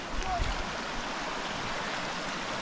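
A river rushes steadily while people wade across it on a hike to a waterfall near the village of Aderbievka, Gelendzhik. The flowing water makes a constant broadband wash with no breaks.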